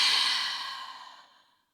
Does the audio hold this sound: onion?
no